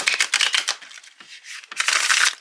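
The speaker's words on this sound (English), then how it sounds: "Yeah, that's a nice shuffle." Erenberg Tarot cards from a US Games deck are shuffled close up in quick riffling bursts, a brief lull in the middle before another dense flurry of papery flutter, with no voices.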